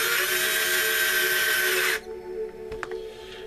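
A power drill drives screws into a Gmade 2.2 beadlock wheel ring, giving a loud, steady whirring burst of about two seconds that cuts off abruptly, followed by quieter handling clicks.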